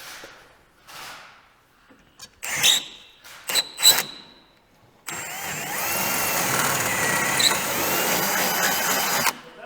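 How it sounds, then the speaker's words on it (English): A few short whirring bursts of a power drill start and stop, then a sustained, loud grinding run as the bit bores through three stacked metal plates during a rear bumper install. "it may require just a quick pass through with the drill bit."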